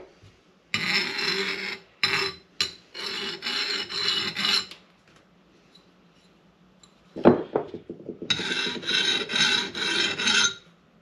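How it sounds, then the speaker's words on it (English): A metal file rasps across hardened screwdriver tips in bursts of back-and-forth strokes, loud and close, with a pause midway and a clink of metal before the strokes resume. "The file skates across."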